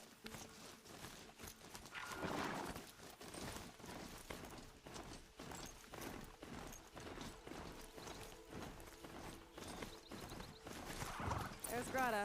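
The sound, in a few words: machine horse mount hooves in video game Horizon Zero Dawn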